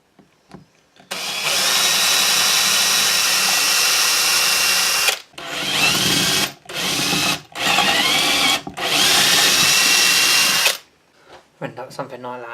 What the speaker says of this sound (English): So I'm just going to drill through the holes now. I go through with a pilot drill first.